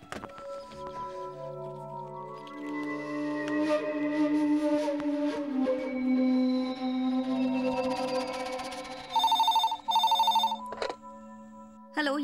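An old telephone rings in a classic Tamil TV serial, sounding two loud, close trilling bursts near the end after a stretch of sustained background music.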